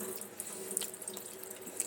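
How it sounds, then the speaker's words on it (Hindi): Cooking water from boiled black chickpeas being poured off and drained into a kitchen sink, a steady close splashing stream with faint drips, no voices. "हम इनका पानी निकाल देते हैं, पानी का कोई काम नहीं है"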